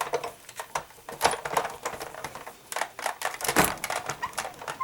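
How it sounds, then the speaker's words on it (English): A die-cutting machine presses a window into a folded card, giving a series of sharp clicks and crunching snaps in an irregular rhythm, close and moderately loud. "just run it through to die cut the window"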